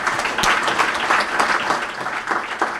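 An audience at the launch of a capital market in The Gambia applauds a speaker, producing a short, full burst of many hands clapping at close range and steady intensity.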